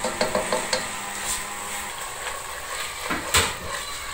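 Tomato puree masala fries in a pan for Banarasi biryani, with a soft continuous sizzle and a few quick spoon scrapes and taps against the metal at the start, then more stirring strokes near the end.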